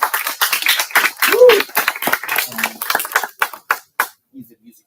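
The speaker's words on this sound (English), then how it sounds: "Can we give him a round of applause?" A small audience at a punk rock museum conversation event gives a short round of applause, scattered hand claps that thin out into a few isolated claps before fading.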